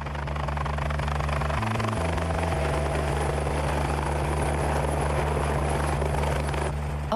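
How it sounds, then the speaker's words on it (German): A helicopter delivering supplies in the high Alps drones loudly and continuously, its rotor thumping and engine whine steady throughout, close and dominant with no other sounds. "Regelmäßig bringt ein Hubschrauber Trinkwasser"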